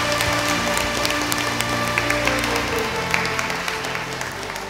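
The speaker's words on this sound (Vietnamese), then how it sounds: "Chúng ta có một tràng vỗ tay để mừng Chúa Phục Sinh." Congregation applause at an Easter Vigil Mass in a church, a continuous dense patter of many hands clapping at a steady level throughout.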